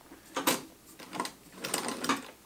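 Treadle sewing machine stitching in reverse, heard as several short, quiet, clattering mechanical bursts with brief pauses between them and no talk.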